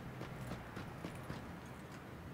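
Faint footsteps tap along at a steady, even pace in the battle royale video game PUBG, sounding distant and muffled under a low background hum, with no one speaking.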